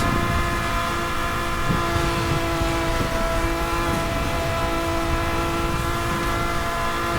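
A car accelerating hard in Need for Speed: Hot Pursuit (2010) on a slippery road at close to 300 km/h, with a steady, loud engine roar and whining high-pitched tones held without a break.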